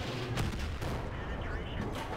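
Tank gun shots in the video game World of Tanks, heavy booming blasts over a dense rumbling battle din, with talk running alongside.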